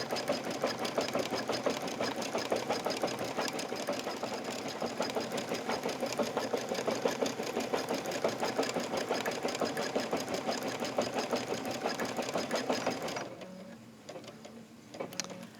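An embroidery sewing machine stitches a couched yarn design onto a pillow, giving a steady, fast mechanical whir and clatter close by for about thirteen seconds before it drops away to quieter handling noises.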